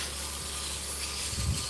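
Continuous light, hissy scraping with a steady rasp as a tool finishes spalted hickory on a wood lathe, close by, with a faint low rumble underneath.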